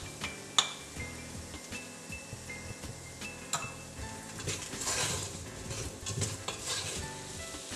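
Spiced vegetables with tomato paste stirred in a pot: a spoon scrapes and clinks against the pot over a low sizzle, close and fairly quiet, with a sharp knock near the start.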